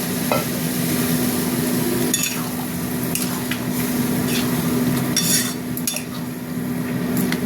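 Steady frying sizzle in a pan with water just added to stop the food sticking, plus scattered clinks of a utensil against the pan; a continuous hiss carries throughout, with no talking.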